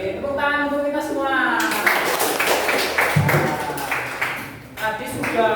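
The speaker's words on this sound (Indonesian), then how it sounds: "Tepuk tangan untuk kita semua." Group hand clapping in a classroom, bursts of applause by students mixed with talking voices and chatter throughout.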